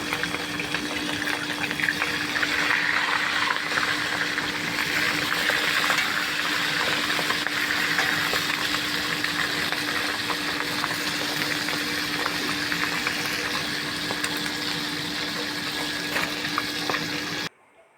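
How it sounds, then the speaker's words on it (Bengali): Hilsa fish heads, rubbed with salt and turmeric, frying in hot mustard oil in a kadai; a steady, dense sizzle and bubbling crackle runs unbroken and fairly loud for the whole stretch, then cuts off abruptly at the end. "মাথাগুলো ভাজা হয়ে গেছে এবার তুলে নিচ্ছি"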